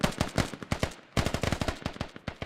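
Rapid bursts of automatic gunfire from an infantry round of a multiplayer shooter on the Gorodok map, dense volleys of repeated shots with a brief pause midway, loud and close.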